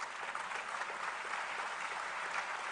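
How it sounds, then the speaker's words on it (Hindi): Applause from the audience at the 64th National Film Awards ceremony, a soft, steady spread of clapping heard at a distance, even and continuous with no speech over it. "जोरदार तालियां।"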